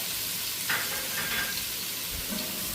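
Minced garlic frying in a pan for Alexandrian-style liver, with a steady low sizzle and a few soft scrapes of stirring, fairly quiet and continuous with no voices.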